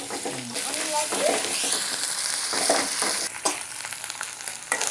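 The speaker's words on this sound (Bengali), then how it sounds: "নামিয়ে নেওয়ার পরে আমরা এর মধ্যে একটু মশলা কষিয়ে নেবো আর কি।" Masala with onion frying in a pan for a potato-and-egg curry, giving a loud close sizzle with stirring scrapes and clinks, and a brief voice in the background.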